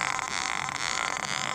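A buzzing, warbling electronic tone stutters and flickers irregularly in short bursts, a Korg Monotron analog synthesizer glitching continuously with no voices.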